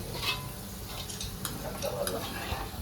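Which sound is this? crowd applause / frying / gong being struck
frying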